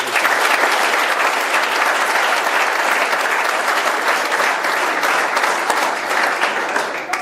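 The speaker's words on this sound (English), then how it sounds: "If you get a round of applause for all the parents." A crowd of parents and guests at a high school sports awards night claps in sustained, dense applause, steady and loud throughout with no talking over it.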